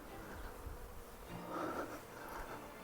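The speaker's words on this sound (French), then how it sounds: "Là, c'est des abeilles, au mieux, ou des guêpes." Faint buzzing of bees or wasps near an abandoned Nike missile bunker, low and distant over a soft background hum, swelling briefly midway.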